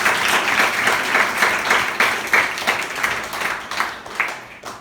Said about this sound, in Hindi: तो इनके लिए जोरदार ताली बजाएं।